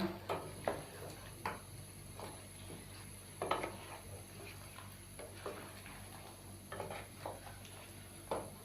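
Spoon stirring and knocking in a pot as spice masala with tomatoes is fried for mutton korma, soft intermittent scrapes and clinks over a faint background hiss, close and quiet, no talk.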